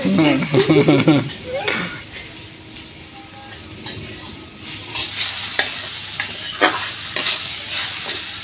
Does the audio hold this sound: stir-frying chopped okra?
yes